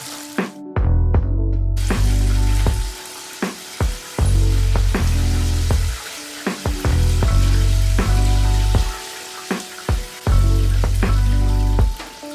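Chicken legs crackle and sizzle steadily in a deep fryer, a loud continuous frying hiss broken by a few sharp knocks and clanks as they are lifted out.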